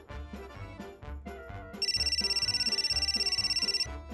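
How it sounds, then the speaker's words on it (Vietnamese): A cartoon phone rings with an incoming call, a loud electronic trilling ring that pulses rapidly for about two seconds over upbeat background music, with no talking. "Cậu có điện thoại kìa."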